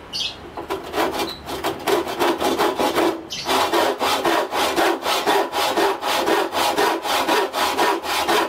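A Hasston hand saw cuts through wood in steady, rhythmic back-and-forth strokes, loud and close, with a brief pause after the first few strokes before the sawing resumes and continues evenly.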